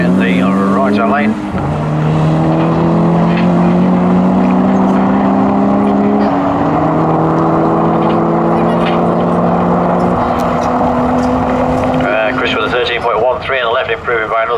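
Twin-turbo rear-drive VW Golf Mk2 with an Audi S4 2.7L V6 and a Nissan drag racing side by side, loud steady engine roar with rising gear-change tones throughout, a voice talking over it near the start and end.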